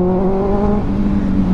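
A Kawasaki ZX-6R motorcycle fitted with an aftermarket AR exhaust revs loud and close, a steady throaty engine drone that dips briefly, then climbs again, with no talking.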